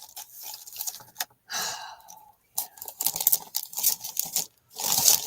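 A plastic bag is handled up close while making ATC coins, giving bursts of crinkling, rustling and crunching broken by short pauses, with no talk over it.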